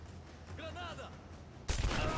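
Gunfire in the Rise of the Tomb Raider video game: a brief, sharp burst of shots erupts near the end after a short stretch of quiet, with a faint voice heard earlier.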